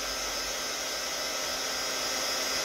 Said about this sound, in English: So I'm going to hit it with the heat gun quick, see if I can't speed the process along.